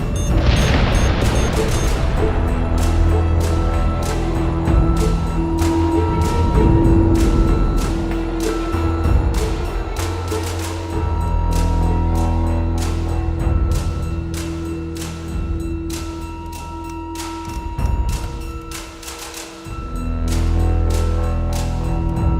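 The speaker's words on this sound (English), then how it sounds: "Missiles incoming!" Missile explosions in the space combat game Battlestar Galactica Deadlock: loud repeated booms and bursts over a steady low rumble and droning score, with sharp impacts scattered throughout.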